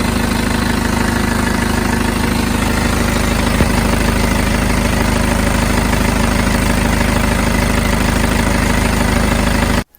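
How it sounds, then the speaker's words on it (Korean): A 2012 BMW 520d diesel engine runs steadily, its loud, continuous drone holding even for the whole span with no speech, then cutting off abruptly at the very end. "12년식 520D 엔진 소리가 정상인지, 우선 엔진 소리에 대한 부분들 영상을 한번 같이 보시겠습니다"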